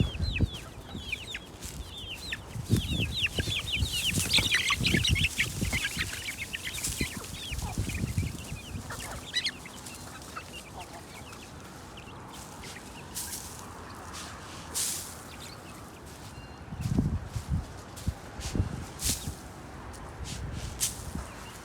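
Several chickens cluck and chatter nearby in a continuous, busy stream, with occasional louder squawks and scratching sounds as they scratch through a compost pile; no talking.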